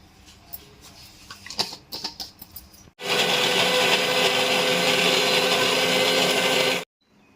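A kitchen mixer grinder runs steadily for about four seconds, grinding coconut pieces, chili powder and salt into a paste for stuffed brinjal curry, loud and close, then stops abruptly; quieter clinks and handling come before it.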